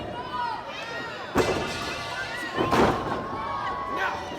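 Heavy thuds of a wrestler slammed down onto the ring mat at a Saturday morning wrestling show, two loud impacts amid crowd noise and commentary.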